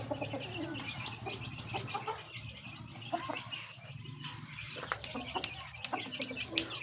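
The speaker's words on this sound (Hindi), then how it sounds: "ये बड़े मुर्गा है," Chickens, including a large rooster, hen and young chicks, clucking and calling in a farmyard coop, a fairly faint, continuous mix of overlapping clucks and short calls without any talking.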